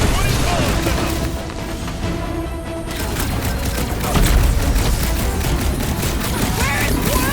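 Gunfire in Marvel's Guardians of the Galaxy, loud bursts of rapid shots and booming blasts in a dense battle din, with a short lull before the firing resumes more heavily.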